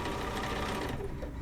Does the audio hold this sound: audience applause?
no